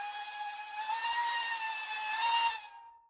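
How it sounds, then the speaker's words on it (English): A steam locomotive whistle sounds from the cab of a K1/K2 engine, one long sustained chime with a steady hiss beneath it, loud and close, lasting about two and a half seconds before cutting off. "So first things first, the whistle."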